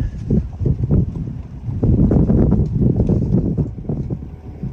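Strong gust of wind buffeting the microphone in a bay in Greece, a loud, close, continuous low rumble with choppy surges that persists for the whole stretch, no voices.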